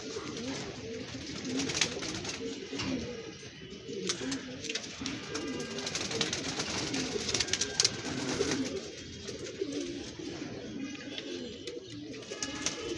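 Pigeons and their chicks cooing in a loft, a steady low murmur of overlapping coos that runs throughout, with scattered flutters and knocks and a faint hum of background noise.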